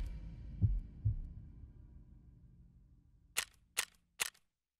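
Gunshots in the Escape From Tarkov video game: two muffled distant thumps, then three sharp, close cracks spaced about half a second apart, with no talking.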